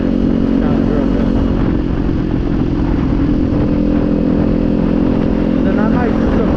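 A 2024 Kawasaki Z400 motorcycle fitted with a Leo Vince exhaust, riding at steady engine speed with a loud continuous drone and wind rush, while someone talks over it.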